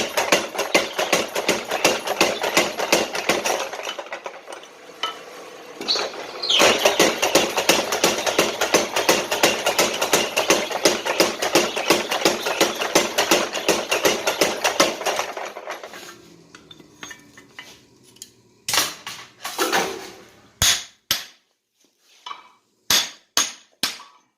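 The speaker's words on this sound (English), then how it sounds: "I'm going to draw the cheeks out under the power hammer here." Rapid, rhythmic pounding of a power hammer drawing out hot railroad-clip steel into a tomahawk head, loud and continuous, then slowing to a few separate heavy blows.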